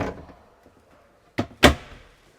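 The pop-top roof of a Winnebago Solis RV is tugged down and shut, giving two quick close thumps, the second louder, after a faint moment of near silence.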